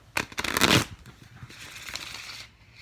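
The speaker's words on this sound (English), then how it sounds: "I'm gonna do one more shuffle." A deck of tarot cards being shuffled at close range: a dense riffling burst in the first second, then softer shuffling rustle continuing to the end, with no voices.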